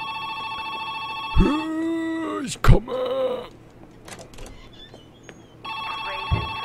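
Electronic telephone ringing inside the video game Joe's Diner, a steady multi-tone ring that runs under a man's loud vocal outbursts and exclamations, then returns after a brief gap.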